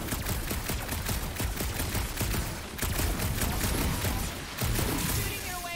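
Rapid gunfire in the Guardians of the Galaxy video game, a steady loud stream of shots with a few short breaks.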